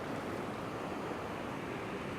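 Ocean waves wash onto a beach during surf fishing, a steady broad roar of surf that holds even and close throughout with no talking.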